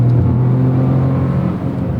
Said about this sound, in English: this is the auto rev match, which is actually a pretty good auto rev match feature.